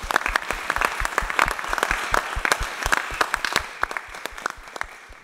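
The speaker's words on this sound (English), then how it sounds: "Give yourselves a round of applause." An audience at a London gathering claps in a dense burst of applause, loud and close at first, then thinning out and fading over a few seconds.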